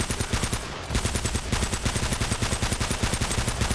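Rapid automatic gunfire in Uncharted: Drake's Fortune rattles in a steady, loud burst of closely spaced shots, with a short break just before one second, close and alone without talk.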